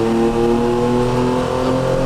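A 1973 Ferrari 365 GTB/4 Daytona with a 450-horsepower engine pulls hard uphill, its loud, close exhaust note holding steady under acceleration throughout, with no talking.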